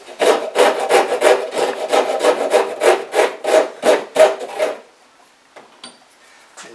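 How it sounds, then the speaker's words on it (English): A very aggressive wood rasp scrapes across a carved wooden bird in about a dozen steady, rhythmic strokes, close and loud, then stops, leaving near silence with a few faint knocks. "here we have a very aggressive rasp on one side"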